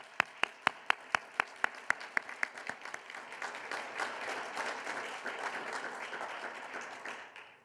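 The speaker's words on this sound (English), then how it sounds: "Let's give them a round of applause." Applause at a press conference for a university president-elect's family: a few sharp, evenly spaced claps at first, then swelling into sustained crowd clapping that carries steadily before easing off near the end.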